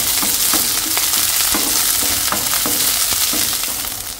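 Ginger, garlic and onion pieces fry in cooking oil in a pan with a steady, close sizzle, broken by regular scraping and clicking from stirring. No one talks.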